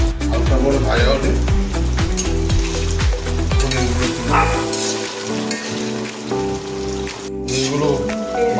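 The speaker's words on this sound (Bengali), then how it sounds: "কড়াইতে তেল গরম হয়ে গেছে, পনিরগুলো দিয়ে হালকা করে ভেজে নেব।" Paneer sizzling in hot oil in a wok, a dense crackling hiss under steady rhythmic background music that briefly drops out midway.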